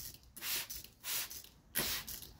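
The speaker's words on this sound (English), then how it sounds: "We're gonna grab a little spray bottle." A small spray bottle mists water onto greensand in three quick, soft, breathy hissing bursts spaced about half a second apart, close and fairly quiet, with no talk.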